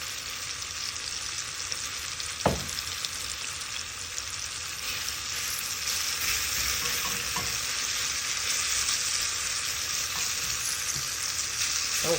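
Mushrooms cooking in a home oven, giving a continuous quiet sizzle with scattered pops and one sharper crack as they burst.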